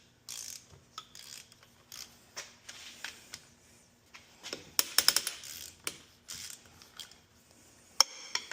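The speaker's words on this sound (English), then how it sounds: "We have to loosen these two and take the 4 head bolts out, or the head nuts for the studs off." A hand ratchet loosens cylinder head nuts on a turbo scooter engine, giving close, crisp clicking bursts in short repeated strokes with pauses between, and a quick flurry of sharper clicks partway through.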